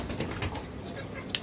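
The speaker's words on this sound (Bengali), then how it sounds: "এখানে একজোড়া কবুতর দেখতে পাচ্ছি" A pair of rural Rajshahi flying pigeons gives soft, low cooing, brief and faint beneath a murky background hum.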